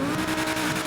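A Progen Luiva supercar in GTA 5 with an aftermarket exhaust gives a steady, loud engine roar with a raspy exhaust note that holds throughout.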